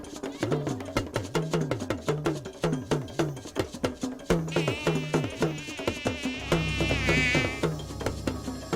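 Mosquitoes buzz with a whining drone in an anti-malaria video played at a Nigerian village festival scene, set over rhythmic drum and cowbell music. The whine swells loud near the end.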